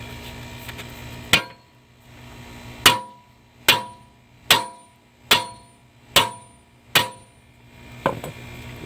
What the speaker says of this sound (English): we're going to move on to my 8-pound sledge